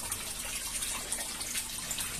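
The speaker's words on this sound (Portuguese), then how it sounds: "Sistema funcionando bem, andando a descarga de tempos em tempos, automático, renovando a água lá" Water rushes and gushes steadily as an aquaponic lettuce grow bed with lambari fish automatically flushes and renews its water, a continuous hissing flow with no voices.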